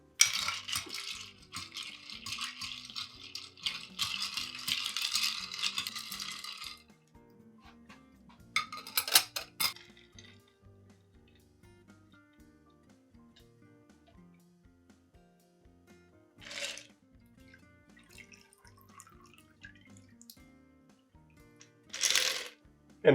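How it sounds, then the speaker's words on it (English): Ice clinks and rattles as a Manhattan cocktail is stirred with a spoon: a dense, busy jingle in the first few seconds, then quieter scattered clinks and two brief sharper rattles later on. "we're just going to stir this for about 20 seconds until it gets nice and diluted"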